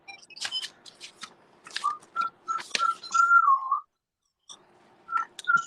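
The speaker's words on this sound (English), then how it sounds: "Listen to the birdies." Birds chirping and whistling nearby in short bursts of bright, clear calls, separated by brief pauses, with no voices heard.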